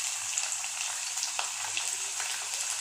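Onion dropped into hot oil with curry leaves for a sev tamatar sabji gives a faint, even sizzle with light crackles, close by and alone.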